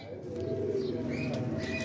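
Pigeons coo softly and steadily at moderate distance, over a low background hum with faint chirps mixed in.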